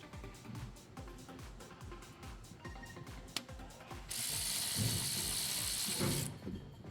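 A ratchet with a 17mm socket loosens the oil drain plug on a 2023 Kia Sportage, giving a rapid run of clicks up close, then a loud steady hiss takes over.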